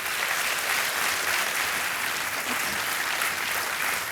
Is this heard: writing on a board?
no